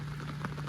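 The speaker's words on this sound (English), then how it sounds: "All day, all night rain." Steady rain falls in a continuous close hiss, with a low constant hum underneath and no voices, for under a second.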